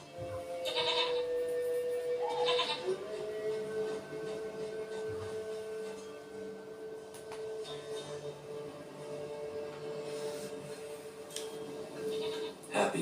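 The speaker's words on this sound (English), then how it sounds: "Goat of mine, dearest, sweetest goat." A goat in The Witcher 3 gives a few short bleats amid quiet game ambience, with a steady tonal hum running underneath.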